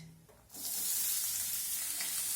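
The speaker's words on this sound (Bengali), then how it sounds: "এখন আমি এর মধ্যে দিয়ে দেবো কেটে রাখা পেঁয়াজ।" Chopped onions tipped into hot tempered spices in a pan while cooking a potato curry set off a loud, steady sizzle that starts abruptly after a quiet moment and carries on close and unbroken.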